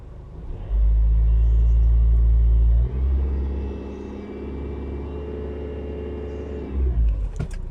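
A car engine idles and revs on a vehicle being checked through its OBD on-board computer while not yet at operating temperature, rising to a loud steady rev for about two seconds, then dropping back to a lower, sustained running hum.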